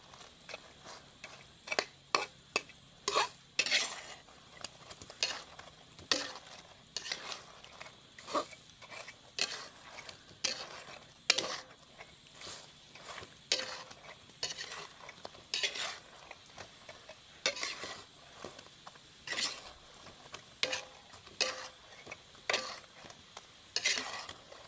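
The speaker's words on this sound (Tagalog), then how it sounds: "i-mix-mix na lang natin." Donut pieces are stirred into a melted mixture in a pan, a utensil scraping and clacking against the metal in repeated strokes over a faint sizzle, fairly close and steady.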